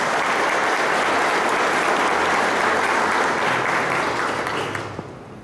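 An audience at an anniversary celebration for the municipality of Santa Rita claps loudly and steadily, the applause holding even for several seconds before fading away at the end.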